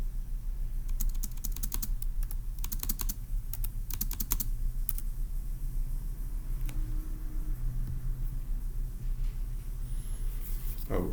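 Computer keyboard typing, a puzzle solution being entered, with quick clusters of clicks in bursts across the first half, then sparser strokes over a steady low hum.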